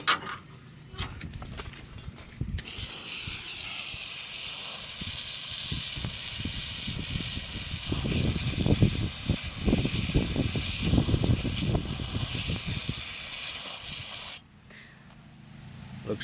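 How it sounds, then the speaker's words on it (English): Steady broadband hiss of a garden hose spraying water onto steel traps just pulled from a vinegar and muriatic acid soak, loud and continuous for about twelve seconds, with splashing and spattering underneath and short quieter stretches at the start and end. "So let's pull it out and hit it with the hose"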